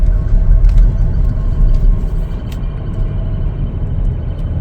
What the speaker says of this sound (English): let's start our test drive